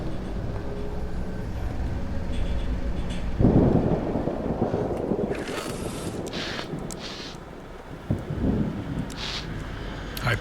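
A video game thunderstorm near a lighthouse, with a continuous heavy rumble of thunder, wind and rain that swells sharply, then eases and flares again. No voices are present.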